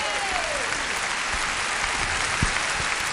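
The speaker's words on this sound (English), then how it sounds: "Let's give him a nice round of applause" An audience at a comedy show applauds in a dense, sustained round of clapping that fills the room and stays at an even level from start to finish.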